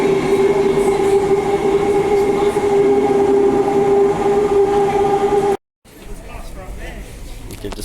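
A Joondalup Line passenger train runs through Perth, giving a loud, steady rail drone with a strong whining tone, then a brief dropout and quieter, rougher running noise at the end.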